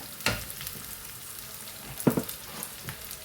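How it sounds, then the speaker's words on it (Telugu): Tempering spices sizzle in hot oil for Rayalaseema-style bent chilli bajji, a steady close crackle with two sharper bursts of popping spatter, heard alone without any voices. "తాలింపు బాగా వేగిందండి."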